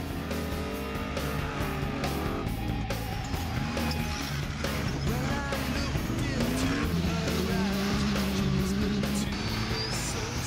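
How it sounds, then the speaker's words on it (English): Off-road 4WD vehicles racing at an organised event, engines revving loudly and continuously with rising and falling pitch as they pass, tires scrabbling, and a faint voice in the background. "We've got some really great racing happening right now."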